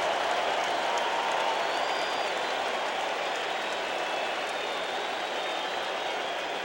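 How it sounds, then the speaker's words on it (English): A 1986 Mets baseball stadium crowd murmurs and roars as a first-base error goes up on the scoreboard, a steady, broad wash of distant crowd noise that holds at an even level throughout. "A little crowd reaction now to error first base being put up on the scoreboard"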